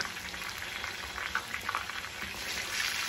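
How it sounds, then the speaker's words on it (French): Catfish frying in hot oil, a steady dense sizzle and bubbling crackle that holds throughout, close and continuous with no talking. "vous avez vu comment je fais la friture de notre catfish"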